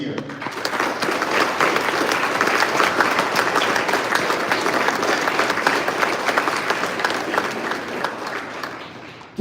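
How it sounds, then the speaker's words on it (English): An audience at a Marine Corps 250th birthday event held by a high school MCJROTC unit applauds the families present, dense sustained clapping that stays loud throughout and tapers slightly at the end. "So everybody, please join me in a round of applause for the families here."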